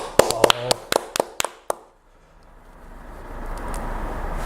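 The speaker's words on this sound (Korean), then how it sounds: "오랜만에 박수 한번 보내드릴게요" A few sharp hand claps ring out in a quick burst at the start, on the set of a local weekly news briefing show, then fade into a low, steady room hum.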